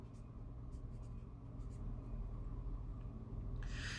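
Chalk or marker scratches across a board during a lecture on semantic tableaux in predicate logic, a faint continuous scraping over room hiss with no talk.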